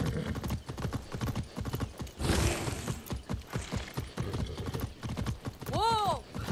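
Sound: horse hooves clip-clopping in a video game

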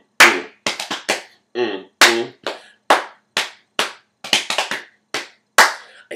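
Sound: hand clapping in indoor cycling choreography

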